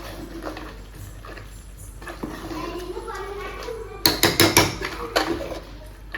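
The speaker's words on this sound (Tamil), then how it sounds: "மசாலா போட்டு நல்லா கிண்டி விட்டுறலாம்" Masala being stirred into mutton curry in a pan, giving a run of soft scraping and clattering knocks against the pan that turn louder and sharper toward the end, over steady background noise.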